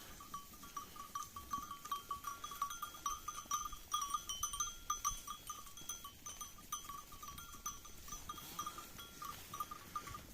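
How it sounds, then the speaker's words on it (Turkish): Faint bleats of goats and sheep scattered over a quiet outdoor pasture scene, with clinking livestock bells ringing on and off throughout. "Bunlar da koyunlar."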